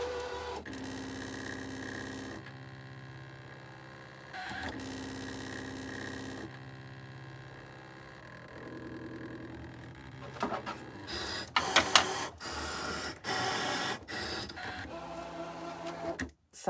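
A Brother ScanNCut cutting machine cuts cardstock with a quiet, steady mechanical whir and motor hum, shifting in pitch as the head moves, growing busier and more clattery toward the end.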